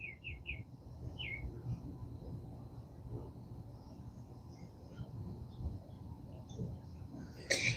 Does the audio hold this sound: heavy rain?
no